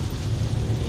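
Rain drums on a car windshield as the car crosses a bridge, a dense, steady patter over a low rumble with no voices.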